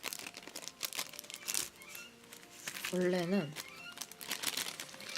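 Plastic packaging of a Japan SIM card crinkles and rustles as it is opened, close and steady throughout, with a person talking over it.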